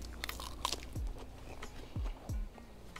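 Raw tuber-plant leaves eaten as a spinach replacement give three crisp, close bites with crunchy chewing in a quiet setting.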